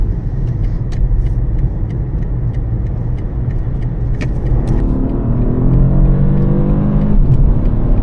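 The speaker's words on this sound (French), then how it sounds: "Le 3 cylindres est magnifique." A BMW three-cylinder car engine pulls hard from inside the cabin, a steady loud drone that climbs in pitch through the gears with faint clicks over it.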